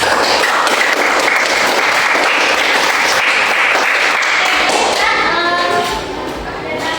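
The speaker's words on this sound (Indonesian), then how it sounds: "Tepuk tangan untuk kalian semuanya." Students in a classroom applaud together, a loud, steady wash of clapping that holds for about six seconds and then drops off, with a few thumps mixed in.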